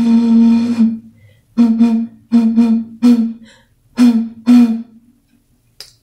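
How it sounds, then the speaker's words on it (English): Air is blown across the mouth of a plastic bottle holding a little water, like a flute, giving a low, hollow, breathy tone: one long note, then five shorter ones, close and loud. "The water changed the way our bottle flute sounded."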